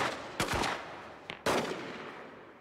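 Cartoon drive-by shooting, with two loud bursts of gunfire, each a sharp crack followed by a lingering rumble, heard a second apart and without any talking.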